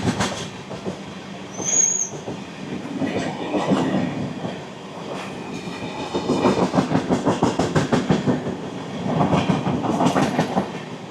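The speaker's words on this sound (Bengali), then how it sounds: "এই খড়গপুর এবং ডানকুনি জংশনের মধ্যে ট্রেন আমাদের ননস্টপ দৌড়াবে 118 কিলোমিটার পথ।" Vivek Express passenger train running nonstop on rails between Kharagpur and Dankuni, loud rhythmic clickety-clack of wheels over rail joints with rumbling carriages and brief squeals, heard close and continuous.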